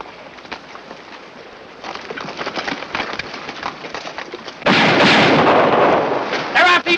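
Gunfire erupts in a 1950 western film ambush, a loud burst of overlapping shots and blasts following quieter scattered sounds, with a shout near the end.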